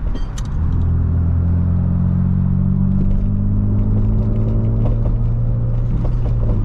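A BMW E92's deep exhaust rumble drones steadily up close, with a few sharp crackles and pops breaking through near the start and later on.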